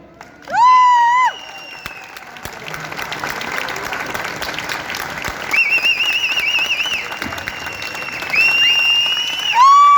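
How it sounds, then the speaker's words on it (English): An audience claps together for the heroes of Iran, a sustained wave of applause and crowd noise with whistles rising over it near the start and end. "together, we are clapping for all of the hero of the Iran"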